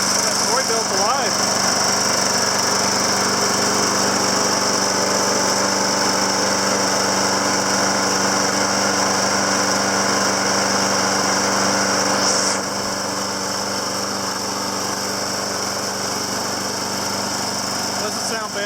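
A Troy-Bilt 21-inch 675 Series lawn mower with a Briggs & Stratton engine runs steadily close by after a starter rope repair, a constant buzzing drone that shifts slightly in pitch partway through.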